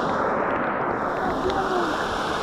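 Rainwater pours steadily over the brim of a full homemade bamboo water collector during heavy rain on a farm in Mindanao, a dense continuous rushing and splashing with no break.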